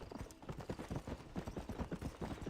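Horse hooves clip-clopping at a steady trotting rhythm in the Red Dead Redemption video game, continuous and fairly loud with a dense background.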